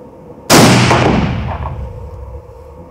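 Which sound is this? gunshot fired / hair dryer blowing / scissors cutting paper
gunshot fired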